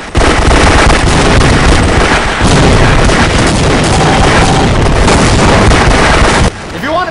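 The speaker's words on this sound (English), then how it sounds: "If you want to be annoying, spam the grenades, too." Continuous heavy blasts and gunfire roar in Half-Life Deathmatch on the bounce map, loud and dense for most of the stretch with grenade explosions layered in, then a brief drop near the end.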